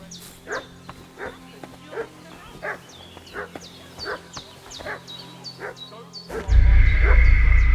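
A dog barks repeatedly in the medieval video game Kingdom Come: Deliverance II, about a dozen evenly spaced barks at mid distance, before a loud rushing noise swells at the end.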